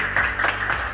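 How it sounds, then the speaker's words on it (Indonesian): Brief burst of classroom applause for a student group, a short patter of several hands clapping at close range. "Berikan aplaus untuk kelompok 3."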